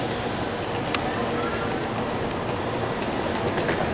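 Loud, steady rumble and hiss fill Lucca train station without letup, with faint rail clicks and the clatter of a train.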